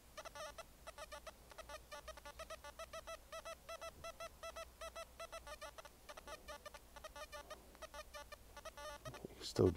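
A Simplex Ultra metal detector gives faint, rapid repeated squeaking signal pulses over a nail board, pulsing steadily throughout with a louder burst at the end, under quiet talk.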